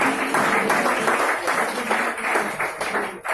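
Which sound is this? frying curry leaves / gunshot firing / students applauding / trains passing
students applauding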